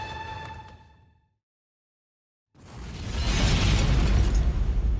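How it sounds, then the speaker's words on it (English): A suicide bomber's detonation on a stairway erupts as a loud, rumbling blast after a brief silence, sustained and heavy for a couple of seconds. "the suicide bomber had blown himself up"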